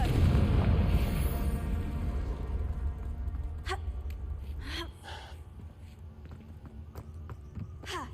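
A Confringo fire spell blasts in Hogwarts Legacy, a loud booming burst with rumbling low end up front that fades, followed by scattered sharper crackles and pops.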